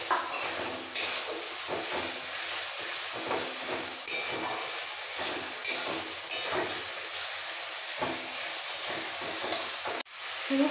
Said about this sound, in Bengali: সমস্ত মশলার সাথে আলুগুলো কষিয়ে নিতে হবে